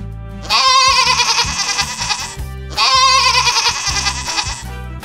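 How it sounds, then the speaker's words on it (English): A goat bleats loudly in two long, wavering calls, one after the other, each lasting about two seconds and heard up close on its own. "Goats eat grass and leaves."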